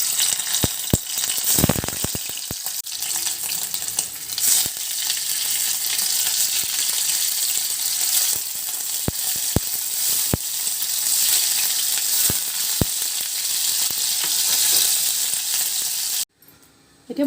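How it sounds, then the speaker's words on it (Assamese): Paneer fries in a hot pan with a loud, continuous sizzle and a few sharp crackles and spits, until the sound cuts off abruptly near the end. "তাতে মই এতিয়া পনীৰখিনি অলপ ফ্ৰাই কৰি লম।"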